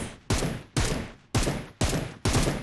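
Gunfire at a bot in the video game PUBG Mobile, five sharp, loud shots spaced about half a second apart, each with a decaying tail, and no talking.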